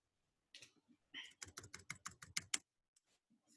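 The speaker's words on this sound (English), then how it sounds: "I will type" Quick typing on a computer keyboard, a close run of about a dozen crisp key clicks in a steady burst followed by a few faint taps, recorded quietly with no talk over it.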